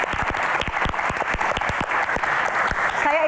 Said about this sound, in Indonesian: Tepuk tangan untuk Sumatra.